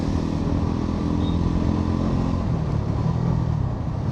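A Bajaj Pulsar NS 400Z 2025 motorcycle with a sport quickshifter rumbles loudly while riding, its engine note dropping midway as the rider downshifts, continuous and close with no talk.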